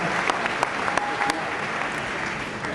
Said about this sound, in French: Une bonne main d'applaudissement pour M. Francis Jobin